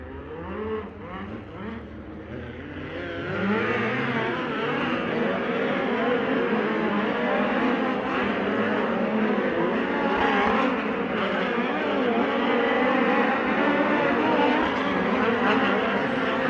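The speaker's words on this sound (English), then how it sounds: "Let's fire off Dirt Draft Hot Lap group number 2 here in just a moment." USAC midget race cars run dirt hot laps at Circle City. Several engines rev up together and then roar on at full throttle in a loud, sustained, rising and falling drone, distant enough to sound like a pack circling the track.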